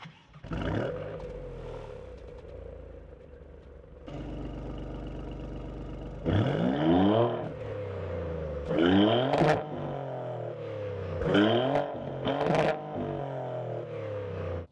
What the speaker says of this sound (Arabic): رغم أن فقدنا هدير محرك الثمانية سندر الخاص من مزراتي لكن ما زال صوت المحرك الستة سندر عليها برضو جدا جدا جميل وتعالوا نسمع